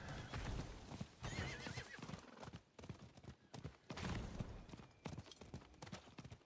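Rhythmic video game horse hooves clip-clop at a quick trot, fairly close, with a horse's whinny mixed in and no talking.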